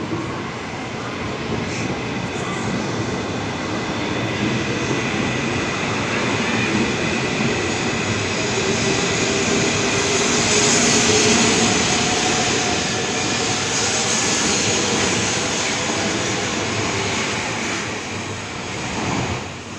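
A Shinkansen bullet train moves along a platform at Tokyo station, a loud sustained rumble and hiss with high whine rising and fading slowly, heard close and continuous without speech.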